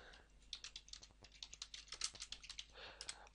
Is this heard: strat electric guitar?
no